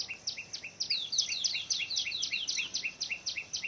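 Small birds chirp in quick, repeated high twitters, a steady run of bright calls at moderate distance with faint background hiss and no talking.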